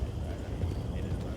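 Horses' hooves clip-clop steadily and close by in a RedM western game, a low continuous plodding under ongoing talk.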